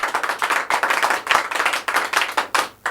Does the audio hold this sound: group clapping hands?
yes